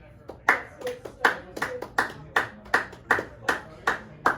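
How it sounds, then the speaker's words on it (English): Sparse, evenly spaced hand claps at about two per second, loud and close, with faint talk underneath; a small audience applauding guests after a discussion on struggles. "Can we please give them a big round of applause for their contributions?"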